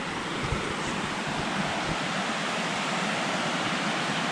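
A river runs right beside a campsite, giving a steady, broad rushing wash that stays even and continuous with no pauses or voices.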